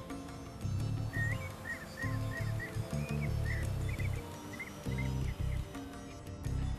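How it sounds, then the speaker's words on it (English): A clay-colored thrush song played back through a phone bird-guide app: a series of short, sweet whistled phrases repeating in a steady rhythm, thin and tinny, over loud low rumbling background noise. "I'm playing the voice here of a clay-colored thrush"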